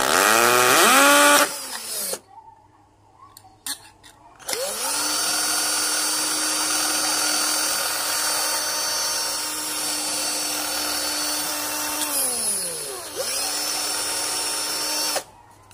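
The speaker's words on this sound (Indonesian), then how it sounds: "ini kita bor di sini" A power drill bores a hole into the plastic casing of a broken solar panel lamp, whining steadily at high pitch after spinning up, with a brief pause and restart, then winding down.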